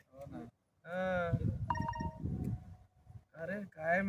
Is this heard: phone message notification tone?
yes